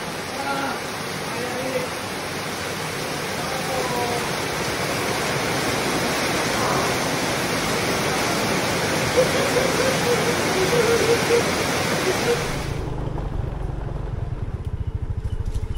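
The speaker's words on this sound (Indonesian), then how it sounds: "tuh lihat ini hujan" Rain falls steadily outdoors as a dense, even hiss that fills the whole stretch, then thins abruptly near the end to a softer rumble.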